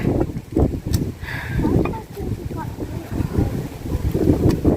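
Wind blows across a microphone outdoors near the sea at sunset, a steady rumbling gusty roar throughout with faint surf beneath.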